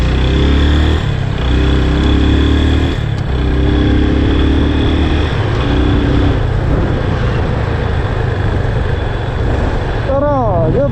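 A motorcycle on a solo ride along the road to Pharping Dam drones steadily with its engine, wind rushing past the microphone, a continuous close rumble that never lets up.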